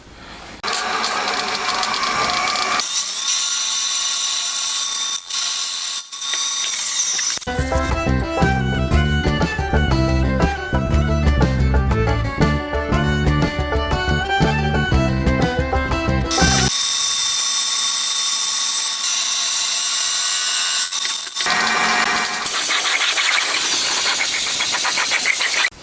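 A 9mm end mill cutting a screw-head counterbore into the cylinder of a 125cc four-cylinder, 16-valve engine: a steady machine drone that shifts into a loud, pulsing tonal whine during the cut, then settles back to a hum.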